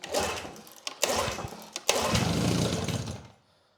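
An old Evinrude outboard motor cranks in a couple of short bursts, then catches and runs with a loud, steady buzzing roar before cutting out abruptly, close up with no voices.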